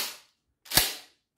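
A single sharp, loud blast from a Bataan 71 16-gauge pump shotgun, made in Argentina. It cracks out close by and rings down quickly, with a short fading noise just before it.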